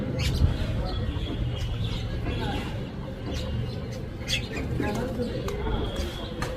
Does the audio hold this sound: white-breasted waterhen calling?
yes